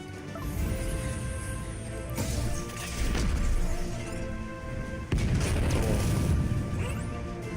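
Boom barrage multi-hit attack in the space exploration game Holy Potatoes, a run of loud crashing, booming impacts with sharp smashes near 2 and 5 seconds over a steady game soundtrack.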